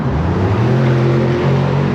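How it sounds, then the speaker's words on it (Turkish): On a Krasnodar street, a car with a loud modified exhaust roars past with a strong, droning engine note, close and steady throughout, with no talking. "Tabii şöyle bağırarak geçen araçlar da var. Büyük ihtimalle egzozunu deliyorlar onların."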